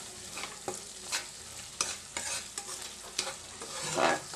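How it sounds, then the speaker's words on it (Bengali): A vegetarian spice masala is sautéed in a pan. Soft sizzling runs throughout, with repeated scraping spatula strokes and a brief louder fry near the end. There is no speech. "ভালো মতন মশলাটাকে কষিয়ে নেব।"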